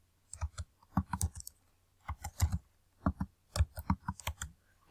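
Someone types an email address and password on a computer keyboard, the keys clicking in quick clustered bursts with short pauses between them, close and clear.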